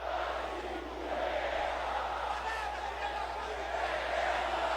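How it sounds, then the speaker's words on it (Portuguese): Santos football supporters sing together in the stadium after a win over Corinthians in the 2025 Brasileirão, a dense, continuous roar of massed voices filling the space at steady volume. "Torcida do Santos segue cantando, jogadores retribuem"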